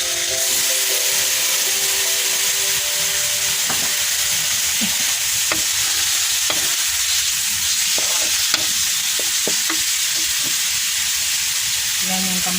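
Tomatoes sizzle and fry steadily in a hot pan while a utensil scrapes and stirs them in repeated knocks, cooked for Filipino sarsiado tilapia, close and continuous with no talking.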